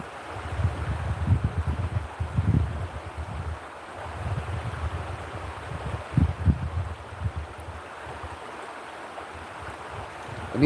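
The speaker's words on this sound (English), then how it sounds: "sitting here talking and listening to the creek" A creek flows with a steady, soft wash of running water, joined by low rumbling bursts that sound like wind buffeting the microphone.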